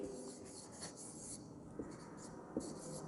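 Handwriting on paper: a faint, continuous pen scratch in a quiet room, broken by a couple of small taps.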